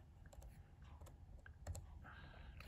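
Keystrokes on a computer keyboard entering a diskpart command to fix a greyed-out unallocated hard drive partition: scattered, quiet, uneven taps over a low background hum, with no talking.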